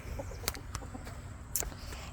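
Chickens in a coop, including a white hen, with a few faint scattered clucks and short sharp rustling knocks against a quiet background, and no one speaking.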